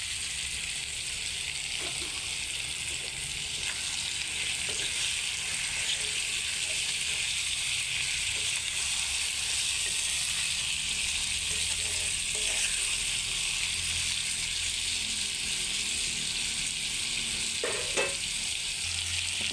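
Cooking oil bubbles and sizzles in a frying pan, a constant crackling hiss with scattered pops and faint stirring clicks throughout.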